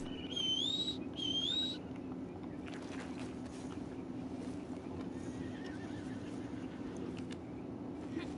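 A horse in the Red Dead Online video game gives two short, high whinnies near the start, followed by a quiet, steady in-game background ambience.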